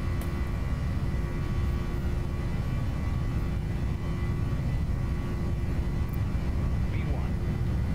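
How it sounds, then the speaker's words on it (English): Airliner engines spooled up to full takeoff thrust in an FSX flight simulator, a dense continuous roar with a steady whine running throughout, unchanging in level for the whole stretch. "Thrust set, full throttle to go."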